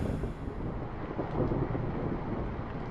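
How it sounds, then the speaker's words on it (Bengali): Muffled thunder rumbles outside as a horror-story sound effect, a low, dull, continuous roll heard alone without talk. "আর সেই সঙ্গে বাইরে চাপা মেঘের গর্জন শোনা গেল।"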